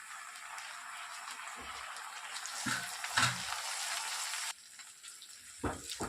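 Potatoes fry in a pan for poha upma, a faint continuous sizzle with a few stirring clatters, interrupted partway as the hiss drops away, while a person talks over it.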